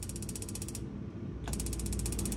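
Rapid, steady clicking from an RV oven's igniter as the knob is turned to light, in a 2023 Grand Villa 42View; a dense train of clicks that pauses briefly mid-way, then resumes, fairly quiet and with no talk.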